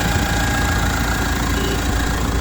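A Mahindra XUV700 2.2-litre diesel engine runs at a steady idle, a loud, continuous clattering drone with a low rumble and no break or change in level.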